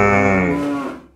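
A cow moos once on a farm, a loud, close, drawn-out low call that fades toward the end with no talk over it.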